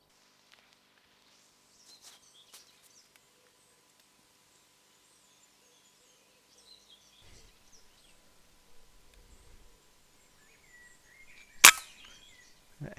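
A single sharp airgun shot cracks out in quiet woods during a squirrel hunt, a brief close snap rising out of near-silence with faint rustling and scattered small sounds around it.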